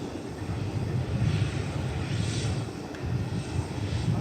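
An American Airlines Airbus A319 arriving at DFW Airport from San Antonio sends a continuous, rumbling engine drone across the field, steady and moderately loud, with no speech.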